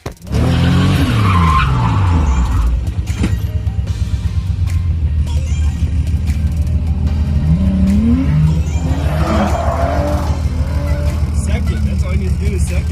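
A turbocharged BMW E36 revving hard and doing a burnout, loud close engine drone with rising revs and squealing, skidding tyres throughout.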